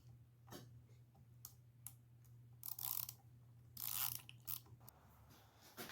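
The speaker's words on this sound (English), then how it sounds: "next we're going to take the 8mm bolts out down here." A ratchet clicks faintly while backing 8mm bolts out of a chainsaw, a few short close bursts of ticking separated by pauses over a low steady hum.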